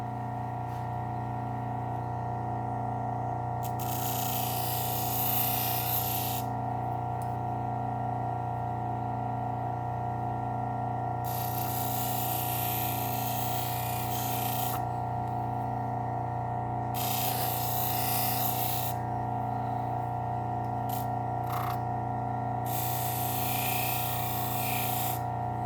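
A Work Sharp Ken Onion electric sharpener grinds non-serrated steak knives on its belt: a steady motor hum runs throughout, overlaid by four harsh, raspy grinding passes of a few seconds each.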